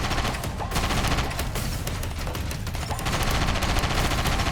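Missile and weapon fire in the video game Sand Land, heard as a dense, continuous barrage of loud explosive bursts and rapid gunfire-like cracks filling the whole span with no talking.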